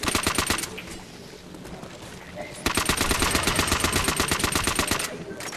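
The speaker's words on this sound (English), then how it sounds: "They got crazy with a fucking machine gun." Rapid machine gun fire in Black Ops Zombies comes in two long bursts of loud, rhythmic shots, with a short lull between them.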